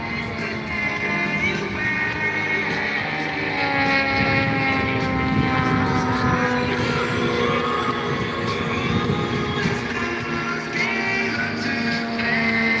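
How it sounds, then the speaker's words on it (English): A Decathlon light aircraft flies past at the Elvington airshow, its propeller engine drone rising and holding loud and steady before easing off, heard alone. "there's Trigger's broom going past us, the Decathlon"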